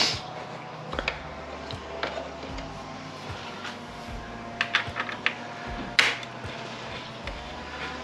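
Small Torx screws come out of the headlamp housing on a BMW R1250 GS, heard as scattered light clicks and taps of a driver and plastic parts, close and fairly quiet, without speech.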